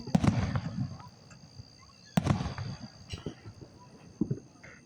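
Two loud firework bursts, one at the start and another about two seconds later, each followed by crackling, with a few smaller pops after; distant background chatter between them.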